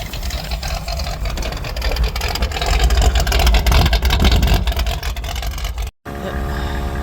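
A transport truck's engine runs after warming up, a loud, close, steady rumbling drone that cuts out briefly near the end and resumes, with no talk.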